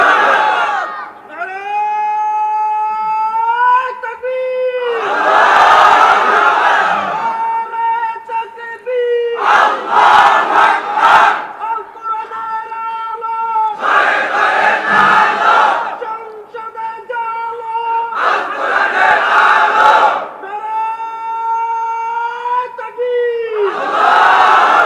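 A large religious gathering roars a takbir chant in unison, alternating with a leader's sung call; massive crowd bursts rise and fall in repeated waves, loud and reverberant.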